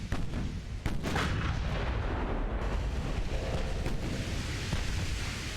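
Battleship high explosive shells firing in Ultimate Admiral: Dreadnoughts, HMS Lord Nelson against SMS Goeben, as a dense, continuous rumble of booming naval gunfire with sharper blasts punching through, loud and sustained throughout.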